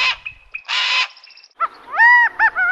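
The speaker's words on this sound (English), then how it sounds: "Harris's hawk." Harsh, rasping calls of a Harris's hawk from the Sonoran Desert ring out in several loud bursts, with a long grating cry followed by shorter harsh notes, close and clear.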